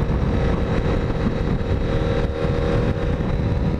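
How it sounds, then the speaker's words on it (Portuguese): A vehicle exhaust fitted with a dB Killer silencer gives a steady, muffled engine drone that stays close and constant throughout, with some wind noise. "eu coloquei o DB Killer no escape"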